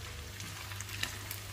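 Chicken liver pieces frying in a pan for sambal goreng hati, a steady soft sizzle with faint crackles and a low hum underneath, no voices.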